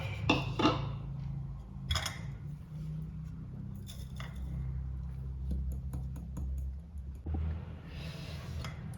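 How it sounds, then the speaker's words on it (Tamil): Ground roasted gram and cardamom powder shaken through a metal sieve in a kitchen, giving a steady soft rustling scrape with light clinks and taps of the sieve against a vessel, close by and without talk. "இப்போ பொட்டுக்கடலையை நைஸாக அரைச்சாச்சு. இதை சலிச்சுக்கலாம்."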